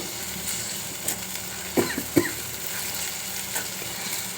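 Ginger, coconut, onion and whole spices like cinnamon, clove and cardamom fry in a pan for a homemade paneer curry: a steady sizzle with stirring, broken midway by two sharp utensil clinks, no speech.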